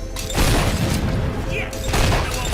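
Gunfire in the video game Fable 3 rings out as a few loud, booming shot bursts over a dense battle din, with a voice talking in the mix.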